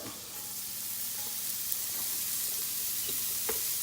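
Shallot frying in butter in a pan for seared salmon with lemon caper sauce: a steady, close sizzle hissing throughout, with a few light clicks of stirring and no talk.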